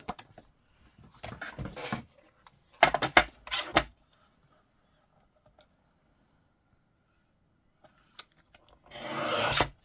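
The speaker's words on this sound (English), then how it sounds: "So right here needs a little trimming with the guillotine." A paper guillotine trimming cardstock for a card project, a few short rasping scrapes and slicing strokes in separate bursts with quiet gaps between, close and clear with no talking.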